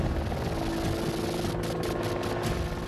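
Apache attack helicopter heard as a loud, steady rotor drone with a rhythmic low thrum and rapid pulsing chops, close and continuous without voices.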